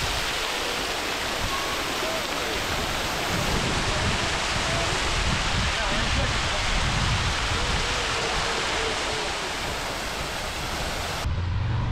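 Steady heavy rain in Copenhagen hisses continuously throughout, a dense wash of noise with no clear voices above it.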